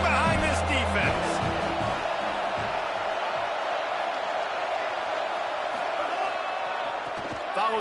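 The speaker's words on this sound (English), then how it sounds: "this crowd is getting behind this defense" Football stadium crowd at an Alabama–Missouri college game roaring for the defense on a big third down, a sustained loud wash of cheering with a commentator's voice over it at the start.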